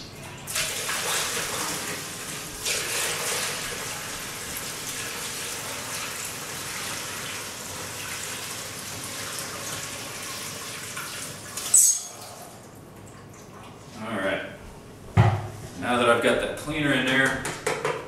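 Cleaner solution pours into a 5-gallon home brew keg as a steady rushing, splashing stream lasting several seconds, followed by hollow clunks and knocks of handling near the end.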